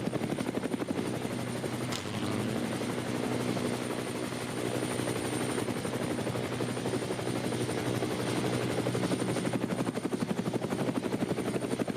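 A helicopter flies over the Nürburgring racetrack filming aerial coverage, giving a steady, dense rotor drone with rapid blade chop that stays loud and constant throughout.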